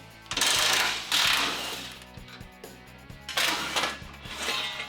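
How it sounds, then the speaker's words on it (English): Bolts loosened on a Jeep's stock skid plate, clicking ratchet-like mechanical clatter with bursts of broadband whirring from a tool, uneven rhythm with short pauses, close by, no voices. "take off the stock skid plate, this part, and loosen off these bolts"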